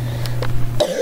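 A single short cough, loud and close, with a steady low electrical hum underneath that cuts out as it ends.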